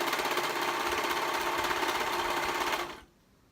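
Sewing machine stitching hoodie pieces together at a slow pace, a close, steady, rapid mechanical chatter that stops abruptly near the end and leaves near silence.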